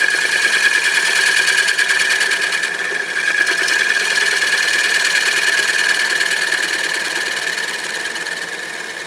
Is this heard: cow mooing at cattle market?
no